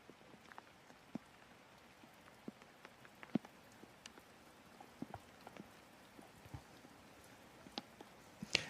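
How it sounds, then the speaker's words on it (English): Rain patters steadily on an open golf course during a European Pro Tour round in Estonia, with scattered louder drops standing out from a soft, continuous hiss and no voices. "this rain is not going to make it easier for any of the players to fight up to the lead"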